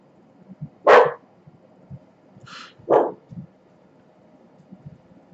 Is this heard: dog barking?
yes